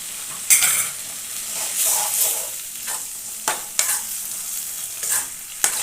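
Brinjal pieces frying in a tempering of onion and dried red chillies, with a steady sizzle broken by repeated scraping stirs of a spatula in the pan, close and clear, no voices.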